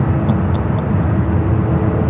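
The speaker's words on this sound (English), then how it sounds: "This flight coming in from JFK is 767 to 300 ER, running late here today." Boeing 767-300ER airliner arriving at SFO from JFK, a loud, continuous jet engine roar close by with no break across the short stretch.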